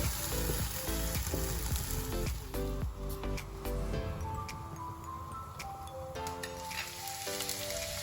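Liver pancakes frying in a pan for a liver cake, a steady close sizzle running the whole time beneath a melodic music track.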